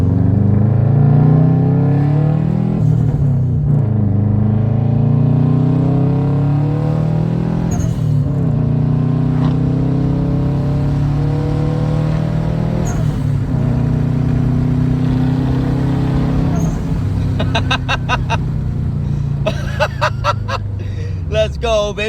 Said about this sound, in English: here's a little clip that I put on my Instagram of us hitting boost for the first time